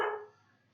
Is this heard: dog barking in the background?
yes